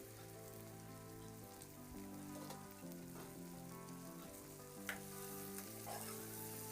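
Vegetables for a palya rice dish sizzle steadily in a pan while being stirred, with occasional scrapes of the spoon, all under soft background music.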